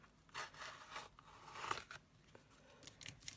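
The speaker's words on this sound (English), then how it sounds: "So I got my ruler, and I'm gonna rip a bit." Dictionary paper is torn along a ruler in a few short, dry ripping strokes, quiet and close, with brief pauses between pulls and no talking.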